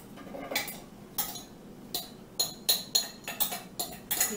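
Soaked, tender soy curls go into a mixing bowl with a series of light clinks and taps against the bowl, irregular and close, with no talking.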